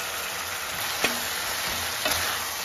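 Spices with turmeric sautéing over a high flame, a continuous loud sizzle with two sharp clinks of a utensil against the pan.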